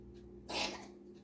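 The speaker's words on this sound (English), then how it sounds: "Alex has a coughing fit." Alex lets out a short, harsh cough burst of about half a second, faint and close, over a quiet steady background hum with no talk.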